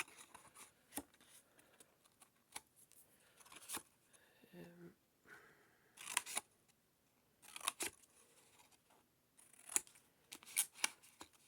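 Scissors snipping small wedges out of paper squares, crisp close cuts coming in uneven clusters separated by quiet pauses, with a brief rustle of paper in between.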